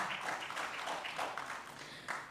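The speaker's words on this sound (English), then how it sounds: "A round of applause for my panelists once again." At a peace and security summit in Nigeria, an audience applauds the panelists after a discussion session. The clapping is a continuous, moderately distant patter with no clear pauses.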